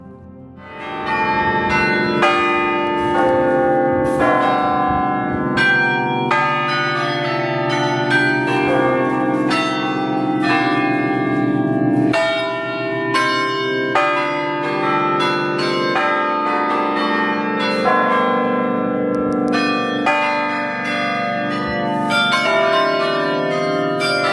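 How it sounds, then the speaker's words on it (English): The 47-bell carillon of the Belfort Tower in Bruges plays a melody, with many ringing bell tones struck one after another and overlapping loudly for the whole stretch without speech. "Belfort Tower has 47 bells which play some classic songs."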